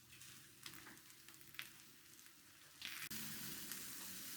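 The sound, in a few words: wrapped chicken breasts frying in a hot pan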